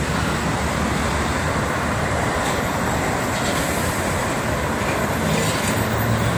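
Steady roar of heavy traffic at the KM 57 highway rest area, with buses and trucks rumbling past continuously and close by in a dense, unbroken wash of engine and tyre noise, and no voices.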